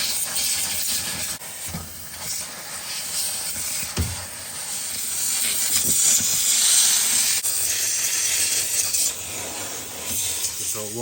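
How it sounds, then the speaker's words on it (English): Steady hiss of a steamer blowing onto a frosted Kenmore refrigerator evaporator during defrosting, broad and continuous at close range with faint rubbing and handling noises, no talking. "So while we are waiting for the steamer to get ready for the fourth time"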